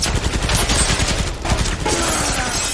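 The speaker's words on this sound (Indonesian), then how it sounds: "tiba-tiba kemudian berduelan antara Chris dan Corvo berlanjut hingga datang Budi yang langsung membabi buta menembaki mereka" Loud, dense gunfire from a film action scene as a gunman sprays shots blindly, rapid overlapping bangs filling the whole moment without a break.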